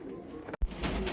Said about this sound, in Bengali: এখানে ডিম সহকারে একজোড়া লাহোরি কবুতর দেখাচ্ছি